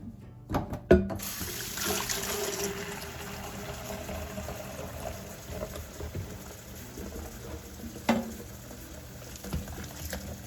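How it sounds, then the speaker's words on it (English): Hot water and dish soap run into a pitcher, a soft steady rush of filling water with a couple of clunks near the start and another bump later, fairly quiet and without talk. "I'm gonna be filling this with some dish soap and some hot water"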